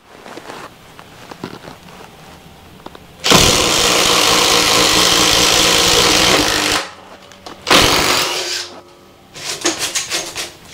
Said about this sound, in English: I'm gonna drill a hole right here.